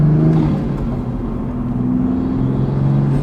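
Tuned Toyota Supra with a manual gearbox and B58 engine, heard from inside while driving: a steady, loud engine drone and rumble with a slight rise in pitch under load.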